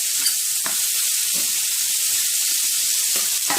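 Chicken gizzards sizzle in ghee and butter in a hot pan, giving a steady, close, dense frying hiss with small pops throughout and no voices.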